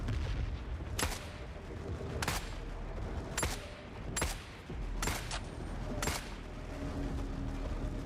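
Gunfire in The Forever Winter game comes as sharp single shots at roughly one-second intervals, loud and close, over a rumbling battlefield din.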